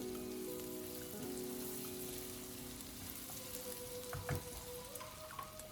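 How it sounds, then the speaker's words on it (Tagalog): Onions sauté with shrimp in a hot pan, a quiet, continuous sizzle and crackle with a few soft stirring knocks near the end, alone without talk. "Lutuin lang natin to hanggang sa mag-moist ang sibuyas"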